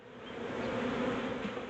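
Honey bees buzzing around a hive during a beekeeping field lesson, a dense, steady drone of many wings, close and continuous with no voices.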